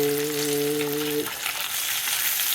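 Bacon sizzling and crackling steadily in a hot pan, a dense continuous fry heard close with a brief hum at the start and a short spoken word over it.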